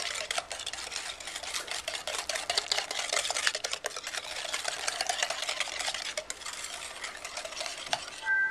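A whisk or spoon stirs rapidly through a custard base of egg yolks and sugar, giving fast, even scraping clicks against the bowl that continue steadily with no talking.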